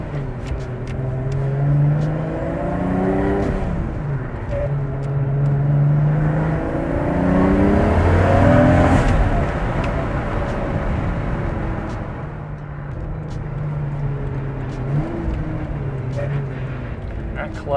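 A Toyota Supra engine revs and pulls under acceleration while driving, heard from inside the cabin as a steady, rising and falling engine drone that swells near the middle. Faint talk runs underneath.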